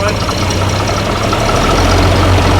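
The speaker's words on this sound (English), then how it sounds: "I love the sound of these big straight 6 cast engines." A big straight-six cast engine in a bus idles steadily, a loud, low rumble with an even throb running throughout and no break.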